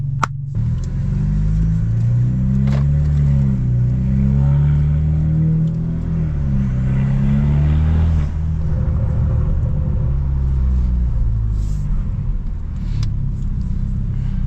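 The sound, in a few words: BMW F30 328i stage 2+ car exhaust while driving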